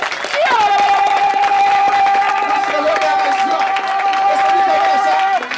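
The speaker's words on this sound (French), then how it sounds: "On donne une acclamation au Seigneur." A church congregation cheers and claps loudly, with a sustained high voice ringing out over the roar and babble throughout.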